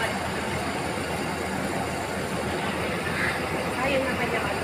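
Train in Taipei, Taiwan, heard from on board as a steady, dense rumble and hiss of a moving railcar, constant and close.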